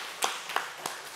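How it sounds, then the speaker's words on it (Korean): Four sharp hand claps from a church congregation, evenly spaced and fairly near, with quiet between them. "하나님께 영광의 박수 돌려드리겠습니다"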